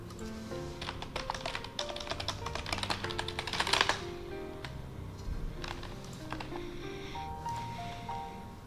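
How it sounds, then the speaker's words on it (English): Loud computer keyboard typing on an online flight-sim air traffic control session, rapid clattering keystrokes running steadily close to the microphone, with no one speaking. "Your keyboard is so loud, Alex."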